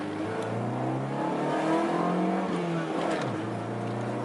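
A Honda Civic EK hatchback with a D15 engine pulls hard under acceleration, a steady loud engine drone rising in pitch through one gear, heard from inside with no talking.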